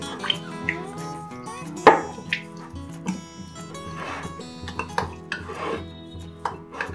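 A spoon mixes milk into thick eggless chocolate cake batter in a bowl, with scattered clinks and scrapes against the bowl. One sharper knock stands out among softer, uneven stirring sounds.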